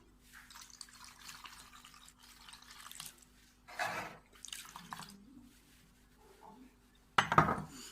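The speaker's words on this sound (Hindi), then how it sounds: "अब इसमें तकरीबन 1 कप पानी जाएगा।" Water is poured into a cooking pot during preparation of Shahi Murgh Musalam, with short splashing bursts and metallic clinks of pot and utensils between quiet gaps.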